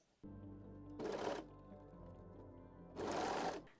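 A sewing machine stitches elastic onto the waistline of a bikini bottom, running in two loud bursts of rapid mechanical stitching separated by a steady lower motor hum.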